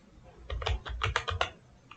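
Python code typed on a computer keyboard gives a quick burst of about eight close, crisp key clicks in an uneven rhythm, alone and fairly quiet.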